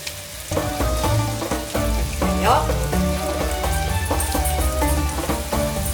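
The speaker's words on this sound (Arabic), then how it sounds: "بابيت راهو يتقلى هكا، راهو يذوب هذوك الخضره" Vegetables fry and soften in a pan, a continuous close sizzle and crackle that runs under steady background music.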